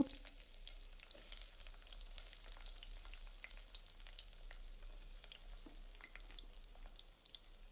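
Onion and drumstick pieces fry in hot oil in a pan while Andhra-style sambar is being made. A close, continuous crackling sizzle holds steady throughout with no voices.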